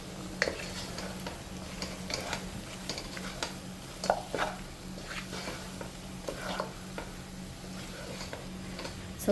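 A spoon stirring chicken curry in a pan after chicken masala and garam masala go in, giving irregular scraping clinks over a low steady hum and a faint sizzle, with no voices.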